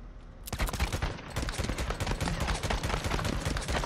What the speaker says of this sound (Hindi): कितनी गोलियां मारी भाई इसको